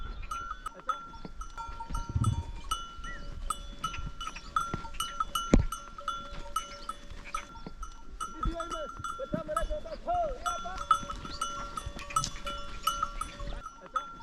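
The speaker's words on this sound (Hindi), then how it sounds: "ये भेड़ें अभी पानी पीने के लिए आ रही हैं।" A flock of sheep approaches to drink in a Pakistani village, faint bleats and bell tinkles scattered over steady outdoor ambience, with little talk.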